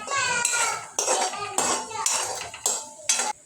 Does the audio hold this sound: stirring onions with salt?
yes